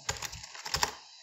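A few quick keystrokes on a computer keyboard, close and light clicking in a short burst, typing into a game-engine editor.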